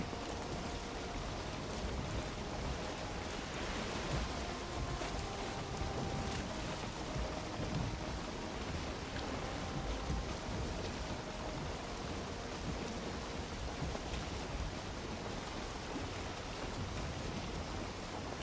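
Steady rain and a low rumble of thunder in the survival game Valheim, heard as a constant dense hiss with no voices.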